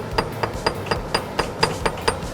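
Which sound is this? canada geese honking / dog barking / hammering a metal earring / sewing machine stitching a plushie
hammering a metal earring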